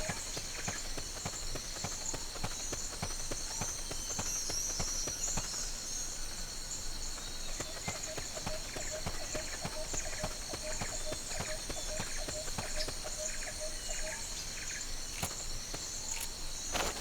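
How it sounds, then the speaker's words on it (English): Footsteps tap in a quick, regular rhythm across Metal Gear Peace Walker's jungle setting, moderately close under a steady bed of buzzing insects and crickets, with a faint tone in the middle. "Footsteps!"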